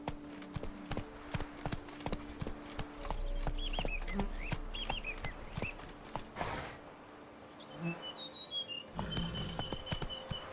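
The horse Roach moves in The Witcher 3: Wild Hunt, Blood and Wine, with a rapid stream of clopping hooves that builds into a gallop, then slows to scattered steps while birds chirp in the background.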